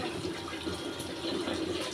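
Water is poured into Maggi masala powder in a kitchen, giving a steady soft trickling splash throughout, fairly faint and with no voices.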